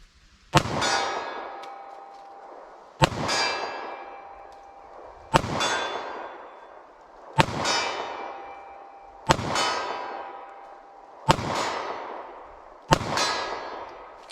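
Seven shots from a compact .40 S&W handgun, evenly spaced about two seconds apart, each a sharp loud crack with a ringing metallic decay, no talking.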